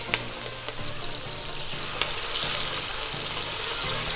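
Beef broth hits browned onions on a hot Blackstone griddle, giving a loud, steady sizzle and hiss with a few scraping clicks from a wooden spoon, close and continuous.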